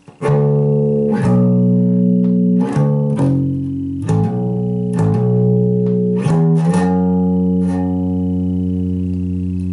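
A bass guitar plays a short riff from a song, plucked notes with quick slides, ending on a long sustained note that rings out, loud and close with no talking.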